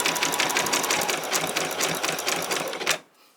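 A sewing machine stitches fabric for a long-sleeved T-shirt in a loud, close, rapid mechanical whir that runs steadily for about three seconds, then cuts off abruptly into near silence.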